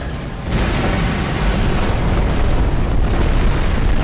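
Missiles explode in the space combat game Rebel Galaxy, a loud continuous rumbling blast that swells after a brief start and roars steadily with deep booming texture.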